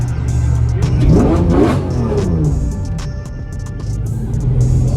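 A car engine revs hard nearby, rising to a loud roar and then settling into a steady, throaty hum.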